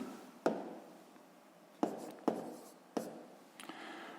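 A pen writes out a sixth-grade multiplication calculation on paper, with soft scratchy strokes and several sharp taps as it touches down, quiet and close.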